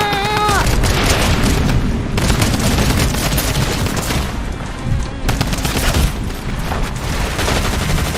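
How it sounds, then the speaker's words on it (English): Video game gunfire rattles in dense, continuous automatic bursts with booming shots, loud and close throughout, while a player's voice briefly cuts in near the start. "Who the fuck is shooting at me?"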